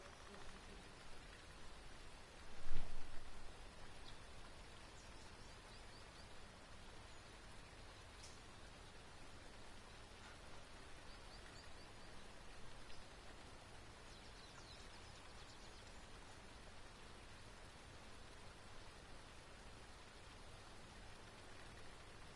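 Steady rain falls as a soft continuous hiss, fairly faint and even throughout, with one brief louder knock early on.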